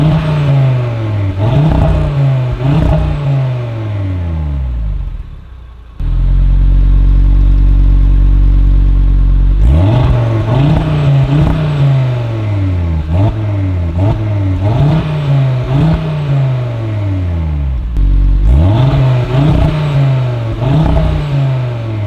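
A 2022 Audi RS3 8Y Sportback's five-cylinder engine revs hard through its exhaust, loud repeated climbs and drops in pitch with a short low rumbling idle between bursts, close and dominant.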